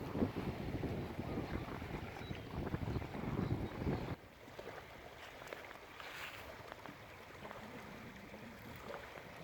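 Wind buffeting a microphone at a seaside beach on the Isan sea, with a loud rough rush in the first four seconds that drops to a softer steady wash of wind and waves.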